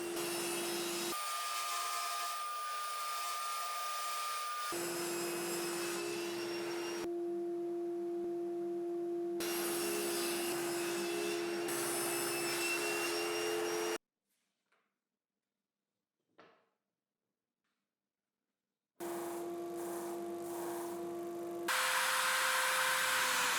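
A power tool cuts wooden parts for a homemade drill press, lathe and router table, giving a loud steady whine with a constant tone in bursts of several seconds, broken by a silent pause before cutting resumes.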